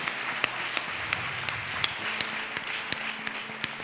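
Congregation clapping at a Christian fasting prayer service, a steady dense patter of many hands filling the room with sharper individual claps standing out, with faint voices underneath.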